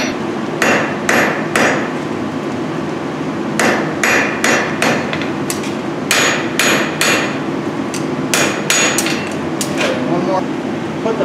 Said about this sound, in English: Light toe work there, heavy blow, then graduate.